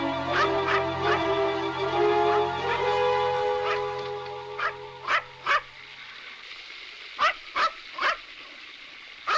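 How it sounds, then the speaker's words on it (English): A small dog barks sharply in a run of separate yaps, loud and close, after a sustained tonal drone fades out, with no talking. "Do you hear a dog barking? I certainly do."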